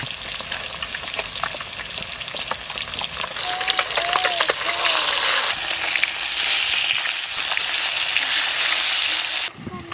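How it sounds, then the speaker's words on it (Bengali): Rohu fish pieces frying in hot oil, a dense, steady crackling sizzle that holds loud and close for about ten seconds, swelling slightly midway, with no talk over it. "ভাজবো এগুলো ভাজা হয়ে গেলে আবার এগুলো তুলবো"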